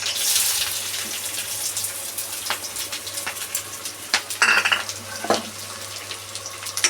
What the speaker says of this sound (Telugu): ఇప్పుడైతే మనకి ఆయిల్ అనేది హీట్ అయిపోయింది. ఇప్పుడు మనం ఫస్ట్ కట్ చేసి పెట్టుకున్న ఆనియన్స్ వేసేద్దాం.